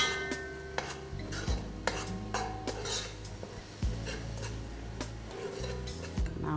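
Bay leaf and other ingredients are stirred in a pot, giving soft scraping and clinking strokes in an uneven rhythm. The stirring is quiet and close, with faint tonal background sounds.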